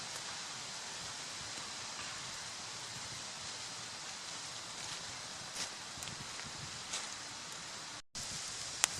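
Rain falls on a survival shelter in a forest, a continuous even hiss of drops with occasional louder patters, steady and enveloping, broken briefly by a short gap near the end.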